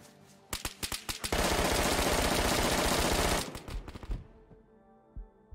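A gun in DayZ dumps a full magazine: a few sharp opening shots, then a rapid sustained automatic burst of about two seconds, then scattered single cracks that fade into near quiet.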